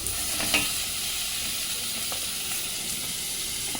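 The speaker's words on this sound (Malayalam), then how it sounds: "ഉള്ളി ഇഞ്ചി പച്ചമുളക് കുറച്ച് വെള്ളം ഒഴിച്ചു എന്നിട്ട് ഇനി നമ്മൾ ഇതൊക്കെ വഴറ്റണം" Onion, ginger and green chili with a splash of water sauté in a pan for beetroot curry, a soft steady sizzle with scattered stirring scrapes and clicks, fairly quiet and close.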